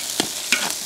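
Pork fat cubes frying in oil in a wok with scallion, ginger, garlic, mushrooms, Sichuan peppercorns, star anise, cinnamon and bay leaves, giving a steady close sizzle broken by two brief stirring scrapes.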